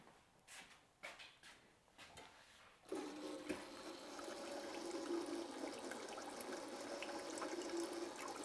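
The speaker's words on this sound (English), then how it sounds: "I'm going to put a little water in there." Water is poured from a container into a gold pan holding paydirt, a brief clatter first and then a steady splashing, gurgling pour that carries on close up and moderately loud.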